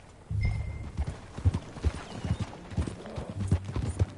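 Horse hooves clip-clop steadily at a walking pace in a video game, a series of close, distinct thuds, with a short whistle-like tone early on.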